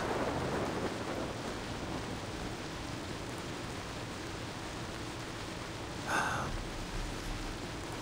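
Steady broadband rain hisses throughout a Far Cry 3 scene, with a brief brighter clatter near the end and no voices over it.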